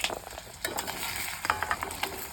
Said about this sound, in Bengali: বড়ার তেলের মধ্যে আলু ভেজে নিব